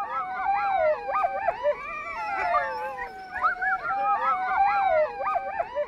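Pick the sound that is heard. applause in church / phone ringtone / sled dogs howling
sled dogs howling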